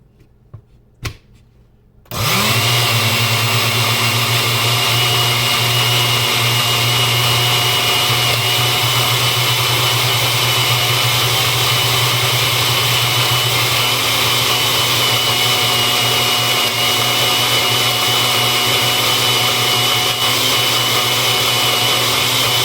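After a few brief knocks, a mixer grinder switches on and runs with a steady, loud, high whirring drone that continues unbroken for a long stretch, grinding a spice paste with tamarind water for Malvani prawn curry.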